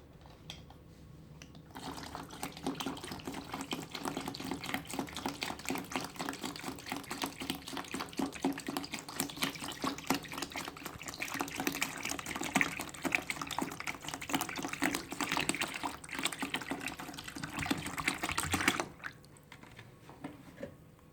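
Plain water pours from a bottle into a homemade liquid hand sanitizer mixture, a continuous close splashing and gurgling stream that runs steadily for nearly twenty seconds before stopping.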